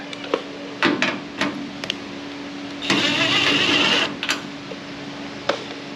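A plug weld on a Firebird taillight panel gives one loud crackling burst of about a second midway, surrounded by scattered metallic clanks and handling knocks in a workshop.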